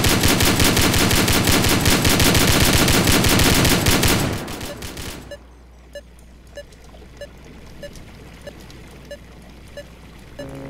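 Rapid automatic gunfire in the Roblox game Mechanism rattles loud and continuous for about four seconds, then cuts to quieter, evenly spaced single shots or clicks over a low hum.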